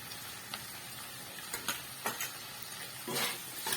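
Shrimp cooking in a mustard, poppy seed and green chilli paste over a low flame gives a faint, soft sizzle, punctuated by a few scattered spatula scrapes and stirs, with no speech.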